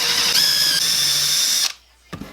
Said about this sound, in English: And then the rest of the way with the hand drill, or the drill gun